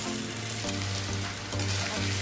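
Fish pieces shallow frying in coconut oil for a mango fish curry, a close, continuous crackling sizzle with a low hum beneath, steady throughout.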